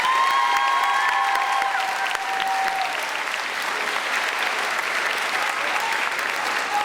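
A middle school graduation audience claps in sustained, loud, even applause that fills the hall from start to finish, with a few cheers mixed in.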